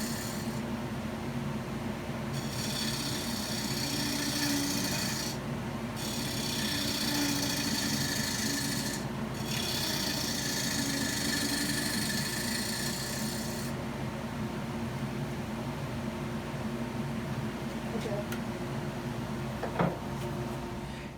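A wood lathe spins a mid-century modern lidded box while a scraper works the surface, giving a sustained rasping hiss in several long passes over a steady motor hum, close and continuous.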